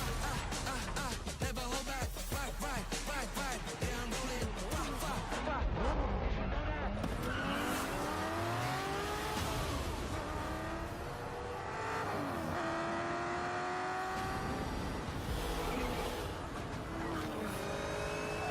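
Race car engines rev, shift and whine through laps in a video game, with rising and falling engine pitch and a car passing by, while a person talks over the driving.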